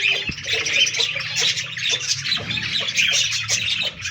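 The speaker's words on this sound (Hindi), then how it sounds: "इसका जो आवाज़ है वो मुझे बहुत अच्छी लगती है, कॉकटेल" Pet cockatiel, one of a pair, giving repeated shrill squawking calls, close and fairly loud, with a steady run of chirps over faint background noise.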